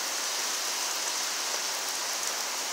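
Heavy rain pours down steadily in a dense, even hiss that fills the whole stretch without a break. No one speaks over it.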